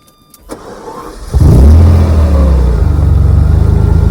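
A 14,000-mile 1987 Ferrari Testarossa with a 5-speed manual, stored in snowy weather, cranks briefly, then its engine catches with a loud burst and settles into a strong, throbbing idle with light revving, close and alone.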